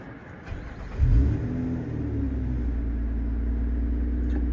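A Lotus Emira sports car engine cranks and fires with a loud rumbling burst, then settles into a steady, deep idle close by.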